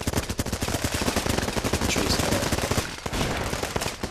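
Sustained gunfire from a firefight in the video game Running With Rifles, with rapid automatic bursts and overlapping shots filling the whole stretch, loud and continuous.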